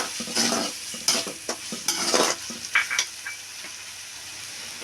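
Chopped tomatoes stir-fry in a pan for a Gongura curry, with a loud close sizzle broken by repeated spatula scrapes and knocks against the pan in irregular bursts.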